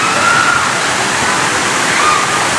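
Waterfall in Los Baños, Laguna, a steady, loud rush of falling water that fills the whole stretch without pause, with no voices over it.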